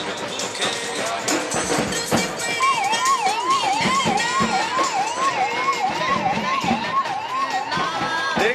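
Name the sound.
emergency ambulance siren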